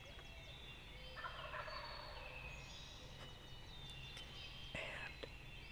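Wild turkeys gobble in Pennsylvania woods during spring turkey season, a few faint, distant rattling calls over quiet outdoor hiss, with soft whispered talk nearby.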